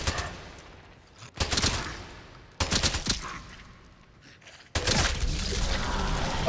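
Enemy gunfire rings out in the video game Atomfall, a few separate loud bursts of rapid shots with gaps of quiet between them, the last volley running longer and sustained.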